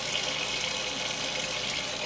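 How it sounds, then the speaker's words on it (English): Water pours steadily into an Avalon Bay EcoSpin portable washing machine over wool, a constant hissing rush of filling liquid. "Add water in."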